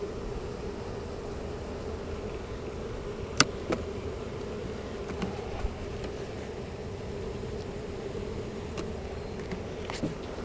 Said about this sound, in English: So they're making that buzz because they're not sure where the queen is.